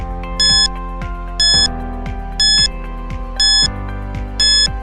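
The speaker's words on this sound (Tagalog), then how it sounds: "Your timer starts now" A quiz countdown timer sounds as a looping electronic tune, with five bright beeping bursts at a steady pace over a droning melody, loud and clear.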